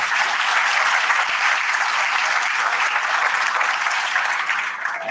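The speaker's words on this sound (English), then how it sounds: "Let's give them another round of applause." Audience applause fills a candidates luncheon, a steady, dense wash of clapping from many hands that holds for several seconds and eases slightly at the end.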